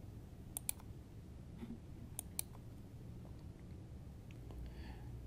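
A computer mouse clicks quietly at a desk, a few sharp, faint clicks in pairs against a low room hiss.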